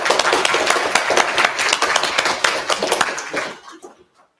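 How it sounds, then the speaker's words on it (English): A lecture-hall audience at a university speaker's forum claps in a dense, lively round of applause that holds steady for a few seconds, then thins out and fades to silence. "I give a round of applause to you guys"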